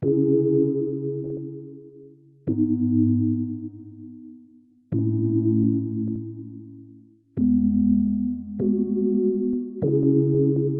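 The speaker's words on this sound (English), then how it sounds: "I used this LFO set as an envelope to modulate the master tune and to create this pitch effect" Synthesizer tones repeated in several sustained notes, each opening with a quick LFO-driven pitch sweep on the attack before settling, one after another with no voices.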